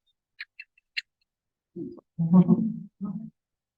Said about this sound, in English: You press the image of the blackbird and you hear the bird sing.